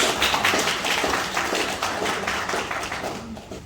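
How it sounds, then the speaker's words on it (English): A small group of about nine people applauds the ECCE team at a curriculum launch in Nagaland, giving brisk, close clapping that fades gradually toward the end. "So big round of applause"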